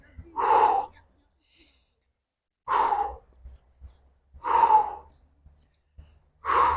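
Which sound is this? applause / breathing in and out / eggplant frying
breathing in and out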